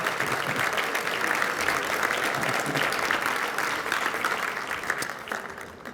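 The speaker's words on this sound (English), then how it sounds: "Please give a warm round of applause to Salvador Ontiveros." An audience at an award event applauds warmly, a dense steady wash of many hands clapping that holds loud throughout before easing slightly at the end.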